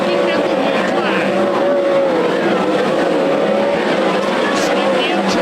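Race cars roar around Willamette Speedway at a World of Outlaws event, a loud continuous engine drone with a rising and falling tone as cars battle for position, while an announcer talks over it.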